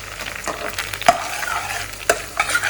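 Noodles sautéed briefly in a hot pan, a close, steady frying hiss broken by a few sharp spatula clacks and scraping stirs, with no talking.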